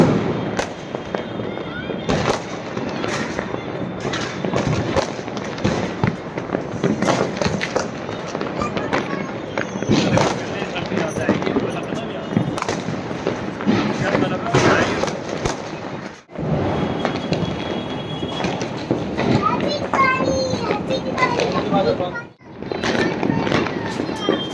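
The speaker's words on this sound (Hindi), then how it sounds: "यहाँ पर हम ऊपर पहुँच गए हैं पटाखे छुड़ाने के लिए बच्चों के साथ।" Diwali firecrackers and fireworks crackle and pop continuously from a rooftop celebration with children, dense bursts layered over constant background noise and voices.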